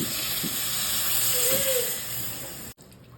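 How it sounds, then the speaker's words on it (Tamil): Tamarind water poured into a hot pan of oil and chili powder gives a loud steady hiss, sizzling continuously before cutting off abruptly near the end. "புளி தண்ணி ஊற்றிக்கலாமா."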